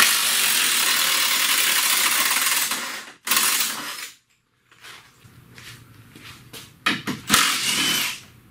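A ratchet works a cradle bolt back into a 2009 Toyota Camry during a transmission replacement, loud close clicking in bursts with a pause of near silence and a few sharp metallic taps.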